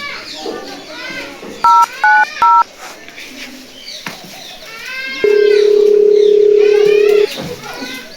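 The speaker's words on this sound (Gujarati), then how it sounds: "phone લગાવા they" Keypad tones from a telephone being dialed in a comedy skit: three short, distinct beeps in a row, then a long steady tone lasting about two seconds, all loud and close over voices talking.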